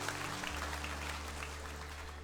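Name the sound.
congregation applause in church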